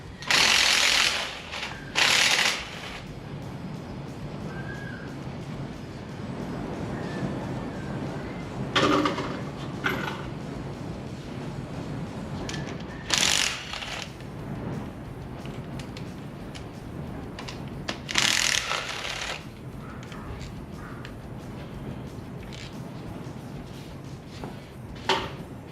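A ratchet with a 10mm socket works bolts loose on a 1983 Honda Goldwing, giving repeated clicking pawl bursts in several spells with pauses between, close up over steady outdoor background noise.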